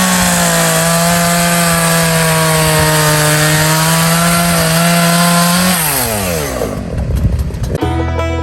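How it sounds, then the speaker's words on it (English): A chainsaw roars loudly and steadily as it bites through logs, then its pitch drops and sputters as the cut finishes and the engine winds down. "So I'm gonna take the chainsaw, go over there, chop up the logs"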